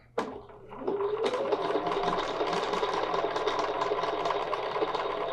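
A sewing machine stitching a curved quilting line along a template, running steadily at close range after a brief click at the start, its fast needle rhythm continuous throughout.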